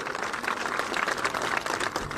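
Crowd applause at an Asaduddin Owaisi election speech in Bidar, Karnataka, a steady, dense clapping from a large audience heard at a moderate distance with no voices over it.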